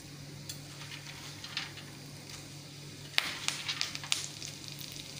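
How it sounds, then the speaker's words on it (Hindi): Cumin seeds crackle in hot oil in an Indian kadhai. A steady close sizzle runs throughout, joined by sharper pops and crackles toward the end, with no speech. "अब मैं इसमें जीरा डालकर तड़कने देती हूँ।"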